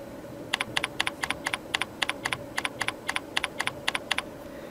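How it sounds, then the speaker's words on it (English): Keystrokes on a computer keyboard while text is typed into a letter template, about twenty crisp, close clicks in short bursts of two or three, steady and alone with no talking. "simply click where you want to type and start typing"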